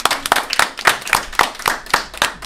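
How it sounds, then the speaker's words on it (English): A few people clap for the game master of an online tabletop role-playing session, about nine close, loud, fairly regular claps with no talking. "give a round of applause to our amazing GM"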